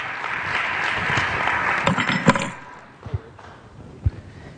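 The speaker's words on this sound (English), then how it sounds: "All right, give them a round of applause." Audience applause for people who came up on stage at a motivational talk: dense clapping that fades out after about two and a half seconds, followed by a few isolated sharp knocks.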